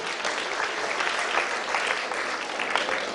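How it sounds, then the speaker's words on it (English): Audience at a quiz giving a big round of applause, a thick, continuous wash of many hands clapping at steady loudness throughout. "Give her a big round of applause."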